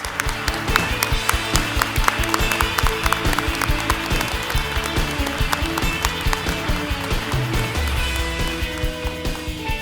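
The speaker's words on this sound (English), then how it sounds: "Please join me one last time in congratulating all of this year's awardees with one final round of applause." A luncheon crowd gives a final round of applause for awardees, a loud, close, rhythmic clapping that stays steady and dense for the full stretch.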